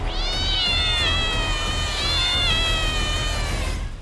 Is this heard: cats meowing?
yes